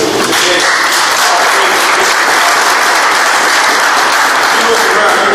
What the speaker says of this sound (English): We also want to give her and her husband a big round of applause